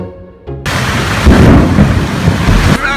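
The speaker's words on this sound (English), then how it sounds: "And a fucking thunderstorm." A thunderstorm with heavy rain hits a tent campsite in Baja: a loud, steady roar of rain with rolling thunder rumbling through, continuous and close, with no talking.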